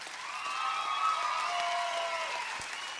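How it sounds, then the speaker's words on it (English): A concert audience applauds in a steady wash of clapping, with sustained whoops or whistles rising over it before they fade. "Thank you for clapping"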